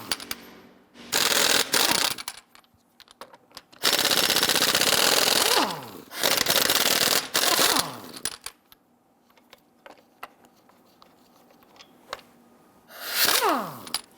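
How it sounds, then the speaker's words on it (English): Lug nuts on a 2011-2021 Jeep Grand Cherokee wheel are loosened and removed with a 22mm socket, giving several loud bursts of rapid ratcheting or impact-wrench whirring separated by quieter pauses with small clinks. "Using a 22mm socket, loosen and remove the lug nuts."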